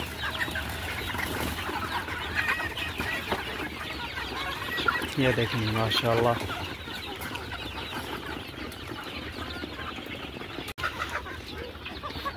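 Desi chickens clucking and calling nearby on a poultry farm amid general farmyard noise, with someone speaking briefly over them.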